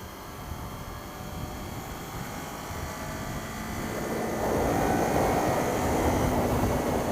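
A Kawasaki Ninja 400 motorcycle engine drones steadily while being ridden, a continuous mid-pitched hum buried under wind rush that swells louder toward the end as the revs climb.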